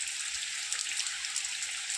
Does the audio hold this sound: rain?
yes